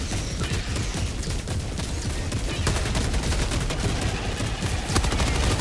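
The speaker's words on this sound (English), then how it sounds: "Orbital barrage incoming." An orbital barrage in Helldivers 2 sounds like a dense, continuous roar of rumbling blasts and crackling impacts, loud and sustained with no clear gaps between hits.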